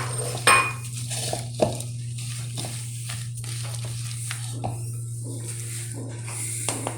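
Green chilies and spices being mixed in a bowl for a green chili and lemon pickle: soft, intermittent rustling and scraping with a few light clinks of a spoon against the bowl, over a steady low hum, with no talk.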